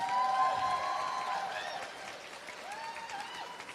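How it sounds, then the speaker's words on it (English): Crowd applauding outdoors at a women's march rally, a steady, moderately loud clatter of clapping mixed with whistles and cheers. "I want to give a big round of applause to Lori and to her crew."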